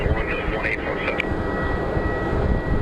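A CRJ regional jet at Phoenix Sky Harbor airport, a continuous moderate engine roar heard from a distance under light background noise, with a few brief higher tones at the start.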